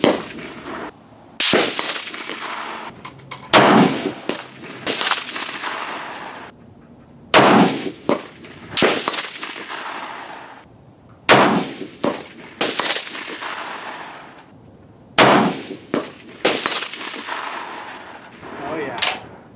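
Loud rifle shots firing GP11 ammunition at an outdoor range, about ten sharp blasts spaced unevenly roughly every one to three seconds, each with a ringing tail.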